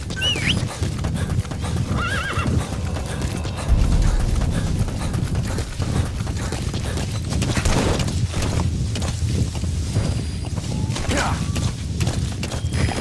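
Horse hooves clip-clop at a steady walking pace in the video game Metal Gear Solid V: The Phantom Pain, with a whinny and faint voices mixed in over a busy background.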